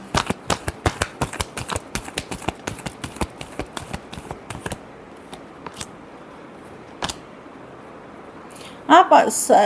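Tarot cards being shuffled by hand, a rapid run of crisp riffling clicks that thins into a few last taps, followed by a woman's brief speech at the end.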